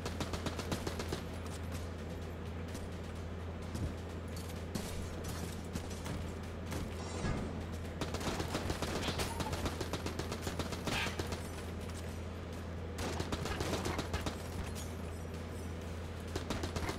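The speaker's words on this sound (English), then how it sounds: "Let's try this AK out, you know?" Rapid AK rifle fire in the video game Enter the Gungeon, dense bursts of gunshots with mechanical clatter running almost continuously over a steady low game hum, no talk.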